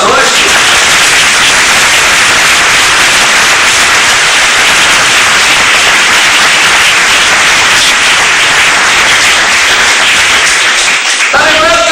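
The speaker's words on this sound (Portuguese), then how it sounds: "aplauda Ele nessa noite" Church congregation applauding during an evening service, a loud, dense and continuous wash of clapping that fills the whole stretch and cuts off abruptly near the end.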